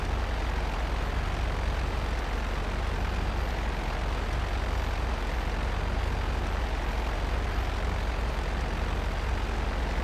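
A fighter plane's engine drones steadily during a dogfight in GTA Online, a loud, unbroken roar with no talk over it.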